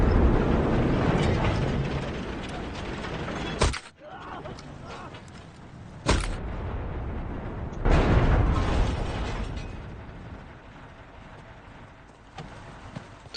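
Tank gun reloading in the video game Enlisted, with loud mechanical clanks and ratcheting breech sounds amid heavy engine rumble, interrupted by sharp bursts, up close.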